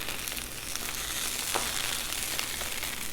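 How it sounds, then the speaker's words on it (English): Spicy Italian sausages sizzle steadily on a Blackstone griddle, a continuous close crackling hiss with small pops and no talking. "So the sausages are cooking up really good."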